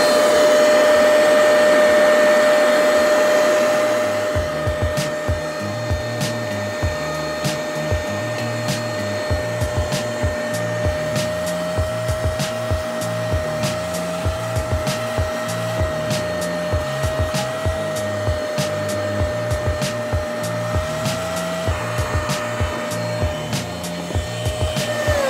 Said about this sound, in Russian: Подходит и для химчистки салона автомобиля, он же и как пылесос, и как и мойка